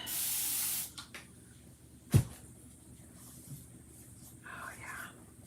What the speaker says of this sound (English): I'm also gonna spray